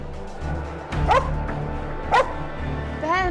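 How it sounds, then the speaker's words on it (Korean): A dog barks several times in sharp, high yelps spaced across the stretch over a steady background hum, with no talk. "허공을 향해 짖기 시작하는데"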